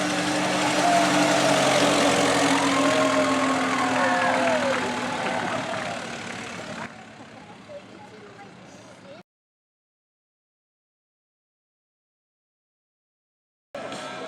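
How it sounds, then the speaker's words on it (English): A 1914 Ford Model T Speedster built as an early race car runs its engine at a hill climb, a loud, close rumble that fades over several seconds, then cuts to silence before sound briefly returns; voices talk over it. "Car number 3 is a 1914 Speedster, and this car was done in homage of early race cars."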